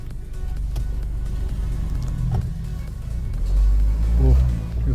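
Mahindra Thar driven with a throttle controller in Boost Plus mode, engine rumbling low inside the cabin and swelling louder as it accelerates near the end.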